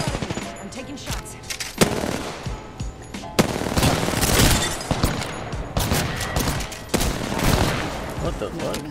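Automatic gunfire from the video game Apex Legends, dense rapid bursts and volleys of shots running nearly continuously with brief gaps, loud and close.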